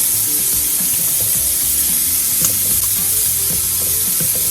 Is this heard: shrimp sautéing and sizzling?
yes